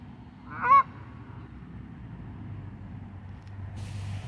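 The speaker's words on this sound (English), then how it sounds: "I guess they're honking away today." A single goose honk rings out briefly at a reservoir park just after rain, then only a low outdoor rumble, with a faint hiss near the end.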